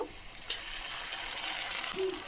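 Ginger-garlic paste being sautéed in oil in a pan, a steady, moderate sizzle with faint stirring scrapes running through the whole short stretch.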